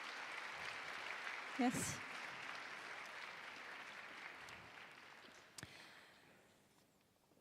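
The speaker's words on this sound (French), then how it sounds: "Vous pouvez les applaudir." Audience applauding at a climate and social-justice debate evening, a soft steady wash of clapping heard from a distance; a voice briefly speaks over it before it fades away near the end.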